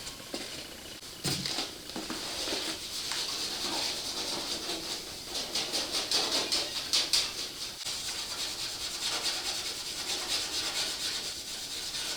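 A fairly soft scouring pad rubs surface prep onto a truck fender flare, giving a steady close scratchy scrubbing with short rhythmic strokes and no talking.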